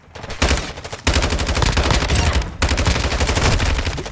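Automatic gunfire in Call of Duty Modern Warfare 2, loud, close, rapid bursts that pause briefly around one and two and a half seconds, then resume.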